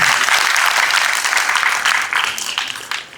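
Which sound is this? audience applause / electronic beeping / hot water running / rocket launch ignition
audience applause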